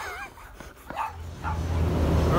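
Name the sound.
dogs barking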